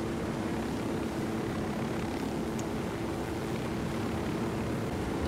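A helicopter in the video game Ghost Recon Wildlands drones with a steady engine hum and rotor tone, constant and fairly even throughout.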